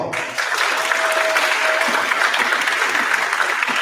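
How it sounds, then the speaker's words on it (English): Students at a high school career and technical education certification awards ceremony receive sustained, dense applause from the audience, steady and fairly loud throughout. "let's give these students a huge round of applause"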